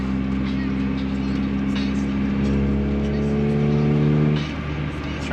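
A Honda Civic EF engine revs up and settles during a downshift inside the car, a steady droning tone that climbs and then drops off near the end, with road noise beneath.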